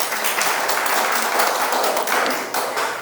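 Lecture audience applauding a talk on healthy food, farming methods and seeds, steady dense clapping from many hands, moderately loud and continuous throughout.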